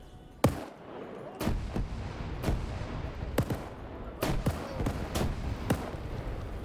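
Gunfire with tracers in a WW2 video game, a series of sharp separate shots spaced irregularly, some in quick pairs, moderately loud over a low battlefield background.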